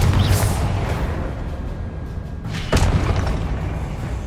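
A Confringo fire spell bursts in Hogwarts Legacy combat, a loud booming blast with a sharp second impact partway through over a dense rumbling battle bed.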